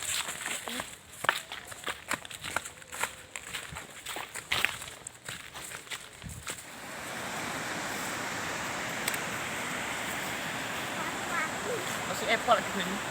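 Footsteps and rustling come first, then a steady rushing roar of water from a waterfall takes over and holds evenly for the rest.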